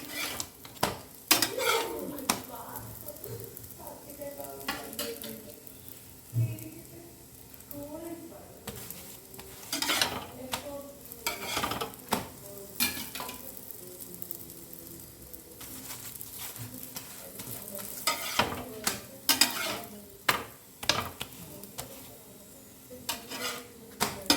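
Dal curry with mustard seeds cooking in a pan, a soft sizzle under frequent utensil clinks and scraping against the pan, with talk over it.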